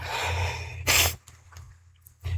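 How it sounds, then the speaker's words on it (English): A single sharp sneeze bursts out close to the mic, sudden and loud, set against quiet breathing and faint room noise before and after. "I felt that sneeze coming"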